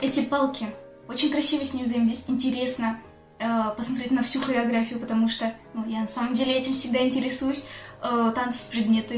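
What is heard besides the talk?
No distinct noise like a dog, phone or traffic.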